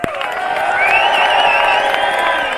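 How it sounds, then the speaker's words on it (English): A rally crowd in London cheers and applauds for a veterans' group, with whoops and shouts over steady dense clapping, loud and continuous throughout. "Let's have a round of applause for the Veterans against terrorism!"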